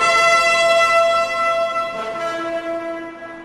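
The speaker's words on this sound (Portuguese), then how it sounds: "tocaram a corneta e o povo gritou" A horn blast in a Bible reading: a loud sustained brassy tone rich in harmonics, holding steady, then dropping to a lower sustained pitch near the end, with no voices over it.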